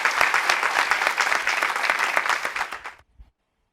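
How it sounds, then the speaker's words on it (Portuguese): A church congregation claps enthusiastically, dense and loud applause for about three seconds that tapers off and stops abruptly, leaving a final stray clap and silence. "Dê um aplauso bem forte."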